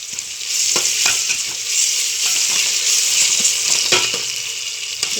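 Ginger garlic paste and chicken fry in a pan for chicken biryani, a loud close crackling sizzle with intermittent spoon scrapes and clinks as it is stirred, no voices.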